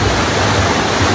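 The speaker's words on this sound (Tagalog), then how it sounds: "Tingog palaman sa tubig" Steady, loud rushing roar of water pouring down the Cantapoy waterfall, a dense continuous wash of noise heard up close with no voices.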